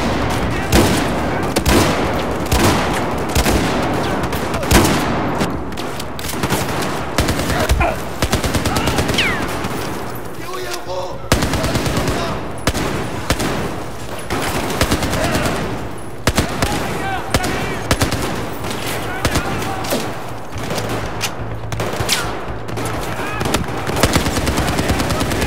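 Battlefield 4 gunfire, including shotgun blasts, crackles in dense rapid bursts across a chaotic combat scene in Shanghai, loud and continuous with overlapping shots and impacts.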